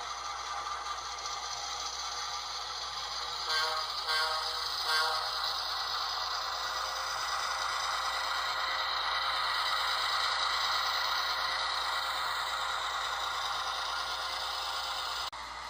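A new model locomotive's motor runs steadily in reverse during break-in, giving a constant faint whir with a light scraping rattle throughout and a few small clicks early on, with no talking.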